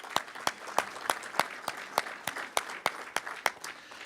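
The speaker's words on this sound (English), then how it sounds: "Another round of applause." Audience at a business awards annual meeting gives a round of applause, a few distinct, evenly spaced claps close up, sounding like a small group clapping steadily.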